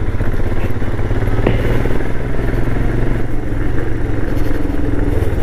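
A motorcycle rumbles steadily along a broken, potholed mountain road near Keylong in Ladakh, its loud close engine drone mixed with rattles and occasional thumps from the rough surface.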